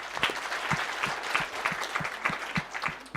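A meeting audience clapping together for newly elected officials of a savings cooperative, a steady round of applause from a modest crowd, fairly close and continuous.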